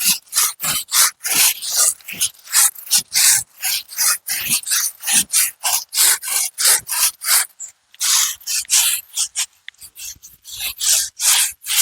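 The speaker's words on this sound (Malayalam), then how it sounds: "ചൂലിക്കൊണ്ട് ഇങ്ങനെ തൂത്താൽ അതിങ്ങനെ പോരും" A broom sweeps a floor in brisk, rhythmic strokes, a dense series of loud rough scratchy swishes lasting about twelve seconds with only short gaps between them.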